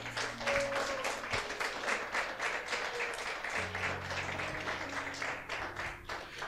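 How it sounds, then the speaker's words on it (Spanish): Church congregation applauding the Lord during a sermon, a moderate, dense clapping that continues steadily over a low sustained tone, with no clear talk. "¿Cuánto le pueden dar un aplauso al Señor?"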